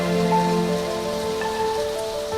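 Rain falling steadily, a continuous even patter on surfaces, heard beneath a soft sustained musical tone.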